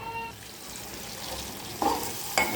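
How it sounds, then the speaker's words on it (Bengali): Spices and kasundi mustard sauce are stirred and fried in a pan for a hilsa fish dish, giving a steady soft sizzle with a couple of sharper scraping stirs near the end and no talking. "কাসুন্দি দিয়ে আমি এখানে একটু নাড়াচাড়া করে নেব।"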